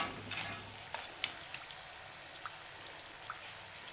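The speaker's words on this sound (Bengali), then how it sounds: "এটা ফ্রাই করার জন্য আমি এই লোহার কড়াইটাই রেখেছি।" Rice flour chakali frying in oil in an iron wok, a soft steady sizzle with scattered small pops and crackles, close and fairly faint.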